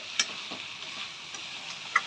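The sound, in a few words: stirring chili and turmeric frying with chicken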